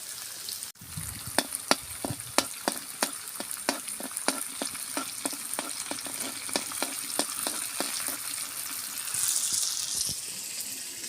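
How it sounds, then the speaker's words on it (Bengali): Poppy seeds frying in a little oil for a snake gourd dish, a steady close crackling sizzle punctuated by a run of sharp stirring clicks against the pan, with no talking. "দিয়ে আমি অল্প তেল দেব, অল্প তেল, একটু পোস্ত আমি দিয়ে দেবো এর মধ্যে"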